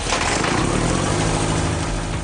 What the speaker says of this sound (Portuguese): O motor elétrico gira o motor, e o que parece o som do escapamento, na verdade, é o som de um manômetro